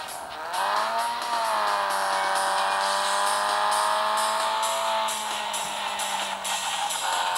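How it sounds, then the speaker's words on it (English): A racing video game played on a Samsung Galaxy Tab 8.9 produces a car drifting, with a steady, loud, tonal engine drone and a sustained tire squeal that holds for several seconds and then eases, with no talking. "Pretty nice drift."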